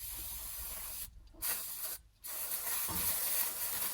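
Brake cleaner sprays in a steady loud hiss onto a car's brake rotor to clear off brake dust, broken by two short pauses as the trigger is released.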